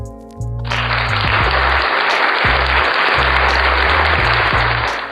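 Loud, sustained burst of applause played in on a New Year's Eve podcast episode, a bright wash of clapping that swells in abruptly and holds steady throughout, with a low musical tone pulsing beneath it.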